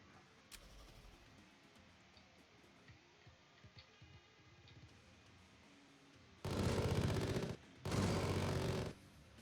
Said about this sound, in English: let's just keep using the chain gun